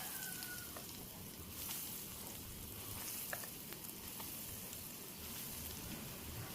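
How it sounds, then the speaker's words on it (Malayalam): Sweet banana cutlets fry in hot oil with a steady, soft sizzle and bubbling crackle, fairly faint and continuous, with no talking. "ഇതൊന്ന് ഓയിൽ ചൂടാക്കി ഫ്രൈ ചെയ്തെടുക്കാം."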